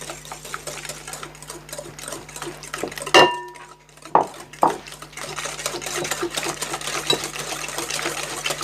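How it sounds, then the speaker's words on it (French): Eggs whisked with caster sugar in a bowl while making brownies, a steady rapid clatter of whisk against the bowl with a few sharper knocks midway. "Vous cassez vos 2 œufs que vous battez légèrement, vous incorporez le sucre semoule."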